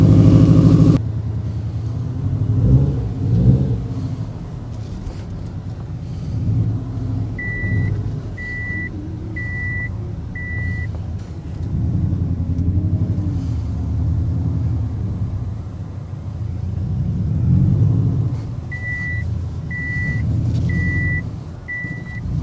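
A Subaru WRX boxer engine idles with a deep, lumpy rumble that swells and settles, while a short series of four beeps sounds twice in the background.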